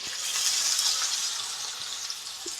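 Green chillies, with a pinch of asafoetida, frying in oil before onion goes in for a fenugreek-leaf dish: a continuous soft hiss of sizzling at close range, faint and even.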